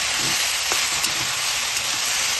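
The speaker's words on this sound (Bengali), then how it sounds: "তো এটা প্রায় ভাজা ভাজা হয়ে এসছে আর একটু ভাজবো" Vegetables with a little sugar sizzling in a kadai for a banana-flower and paneer ghant, a dense, even, close frying hiss with faint stirring clicks and no talk.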